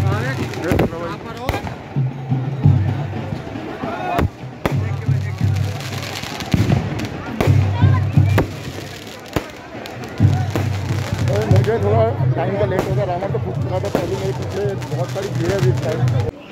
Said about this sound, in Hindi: पटाखे दिखा दे ऊपर जा रहे थे